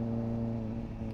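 Kawasaki ZX-4RR with a Yoshimura AT-2 exhaust cruising at mild throttle through a neighborhood, a steady, smooth engine drone, close and continuous, with no rise in revs.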